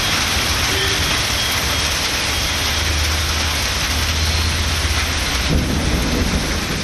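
Heavy rain pours steadily during a thunderstorm in Tamil Nadu, with a constant loud hiss of rainfall and deep rolling thunder rumbling beneath it throughout, no voices present.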